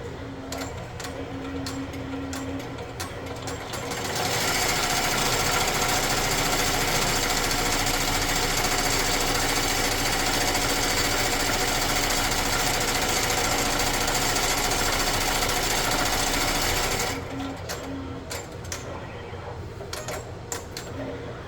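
Embroidery machine stitching an applique placement outline on fabric, a loud steady mechanical whirring buzz with rhythmic needle clatter running for about twelve seconds, with quieter clicks and handling before and after.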